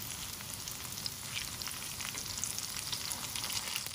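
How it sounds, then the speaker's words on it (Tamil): Pieces of taro root fry in hot oil with a steady, dense sizzle and fine crackling that runs evenly throughout, close and moderately loud with no voices. "நம்ம இதில் வந்து அந்த கிழங்கை வந்து ஒன்று ஒன்றா போட்டு ஃப்ரை பண்ணிடலாம்"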